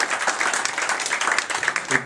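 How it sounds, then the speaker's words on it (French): Brief audience applause at a French goguette song gathering, a short burst of clapping heard close and fairly loud, with a voice rising faintly near the end. "nous pouvons l'applaudir très fort"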